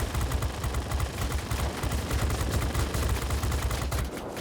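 Machine guns on a P-51A Mustang fighter fire in World of Warplanes as a dense, continuous rattle of rapid shots that runs without a break for several seconds before cutting off, loud and close, with no voices.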